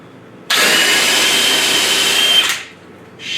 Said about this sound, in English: Let's go on to full-on drill mode.